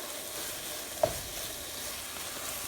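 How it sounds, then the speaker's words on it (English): Nuts and sweetened desiccated coconut being stirred into bottle gourd halwa in a pan, a soft steady scraping and low sizzle with one brief clink near the start, no talking. "Also added some almonds and pistachios, some cashews, and the desiccated coconut. I had the sweetened one, so just mix it all together."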